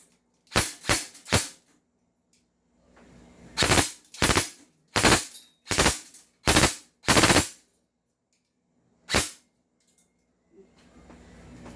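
Airsoft M4A1 rifle firing close by: a few separate semi-auto shots, then a longer run of sharp bursts in full auto, each crack clean against a quiet background with a faint hum, then a last single shot.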